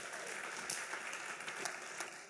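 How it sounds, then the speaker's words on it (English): Applause from the audience at a TEDxRoxbury session greets mention of a long-running open mic, a brief, full crowd clap with a few sharper hand strikes rising out of the steady patter. "go ahead, clap this up"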